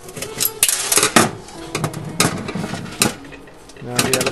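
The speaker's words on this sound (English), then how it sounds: "Now the element slides out." A fan oven heating element slides out of a cooker with a series of sharp metallic clicks, scrapes and clunks, close and irregular.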